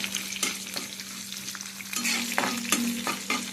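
Green chilies frying in hot oil give a continuous crackling sizzle, close and fairly loud, punctuated by sharp spatters and several clicks of a spoon stirring against the pan; no one speaks.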